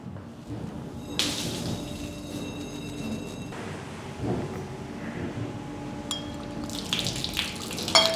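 Shaken liquid is poured while making apple wine, a trickling, splashing flow that swells and fades in bursts over about eight seconds, close by, with some background clatter.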